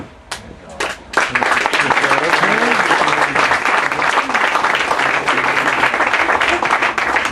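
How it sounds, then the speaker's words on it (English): Audience in a conference hall bursts into applause and clapping after a few scattered early claps, then a dense, steady round that continues to the end, with some voices mixed in. "And we're clapping"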